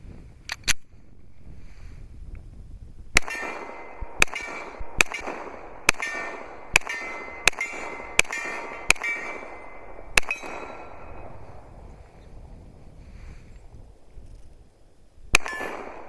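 A Glock 41 pistol fires a string of single shots, about ten sharp cracks at a steady pace with a ringing tail after each, then a pause and one more shot, outdoors at a range.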